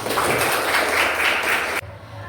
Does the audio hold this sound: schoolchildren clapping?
yes